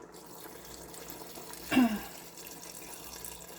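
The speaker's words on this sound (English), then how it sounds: "I will add a little bit more water." Water poured into a pot of curry with peas and vegetables on the stove, a short splashing burst of under a second in a quiet kitchen, followed by a brief spoken remark.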